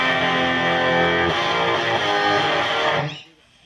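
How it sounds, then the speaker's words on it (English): A Hiwatt guitar amplifier driven into blocking distortion, a loud, sustained, buzzing distorted guitar tone that holds steady for about three seconds, then cuts off abruptly into near silence. "now I'm going to demonstrate blocking distortion."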